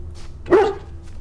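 A single dog bark from the video game Dragon Age Origins Remastered, one short mid-pitched bark standing out over a low steady game ambience, fairly close and moderately loud.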